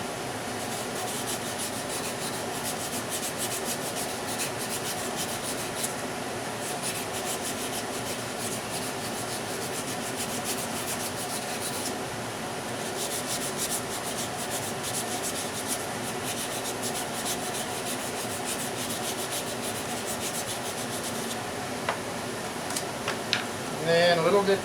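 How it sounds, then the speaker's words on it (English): A bow sander steadily smooths a shaped piece of intarsia wood, making a continuous close rubbing and rasping sound that pulses slightly with each pass and runs for the whole stretch. "we'll clean it up with our bow sander here."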